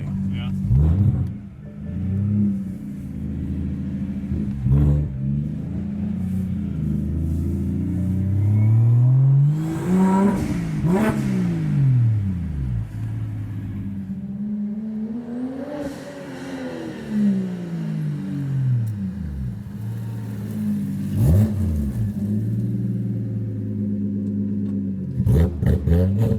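Single-turbo BMW E92 335i engine revving several times, rising and falling pitch sweeps around 10 and 16 seconds, with people talking in between.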